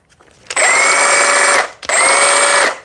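A cordless reciprocating saw fitted with a 5 amp-hour battery runs at its lowest speed setting in two loud, close bursts of steady whining buzz, separated by a brief pause, with no cutting load.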